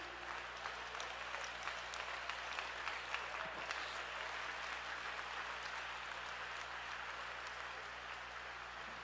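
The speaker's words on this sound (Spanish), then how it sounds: "¡Aplausos al Rey!" A church congregation at a preaching convention applauds steadily, a dense, sustained wash of clapping that stays fairly distant and even throughout.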